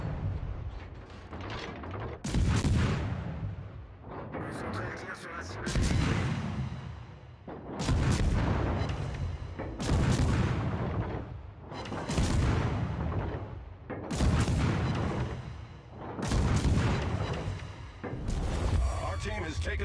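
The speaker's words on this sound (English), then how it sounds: "I'm shooting to distract him." A naval battle in the World of Warships video game brings repeated heavy gun salvos and shell explosions, loud booming blasts every few seconds that each trail off into a rumbling decay.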